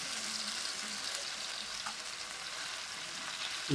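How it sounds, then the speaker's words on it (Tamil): Hot oil sizzling and bubbling steadily in a pan while frying fish, close and continuous, with no voices. "அந்த எண்ணெய் அது கொதிக்கிட்டு மேலே போது பார்த்தியா"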